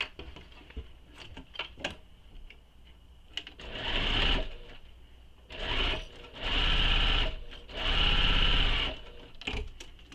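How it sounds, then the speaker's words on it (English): Sewing machine stitching fabric across a zipper pocket while making a bag, several bursts of rapid mechanical whirring of varying length separated by short pauses and small clicks and fabric handling. "Pin it in place and sew it all the way across."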